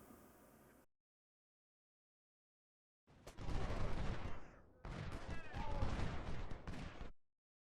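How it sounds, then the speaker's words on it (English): Massed musket volleys rattle against infantry in a Civil War strategy game battle at Iuka, dense crackling gunfire in two long loud bursts separated by silence, with faint background sound before the first burst. "Make sure everybody's shooting at infantry."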